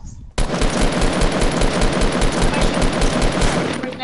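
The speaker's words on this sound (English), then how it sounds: "Somebody's shooting." Sustained gunfire in a shooter video game: one unbroken, dense stream of rapid shots starting abruptly and lasting several seconds, loud and close with no voices.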